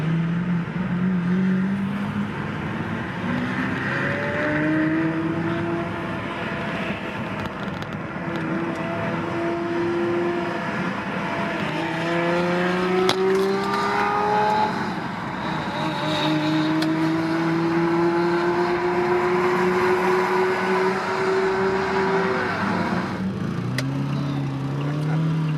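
A Lamborghini Murcielago roars away from a stop, its engine climbing through repeated rising gear pulls, loud and sustained with traffic ambience around.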